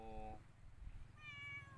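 A cat gives two short meows, one at the start and one near the end, faint and distant over a low background rumble, with no talk.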